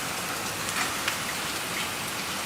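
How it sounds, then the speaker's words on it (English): Light rain falls steadily and evenly during a storm outside, a close, dense patter with a few faint taps standing out; no voices are heard. "That's a nice little rain."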